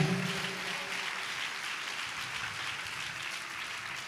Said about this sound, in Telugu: అందరూ సంతోషించి చప్పట్లు కొట్టి